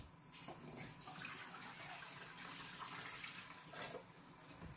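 Warm water poured steadily into a Nesco electric canner, a continuous splashing rush with no talk.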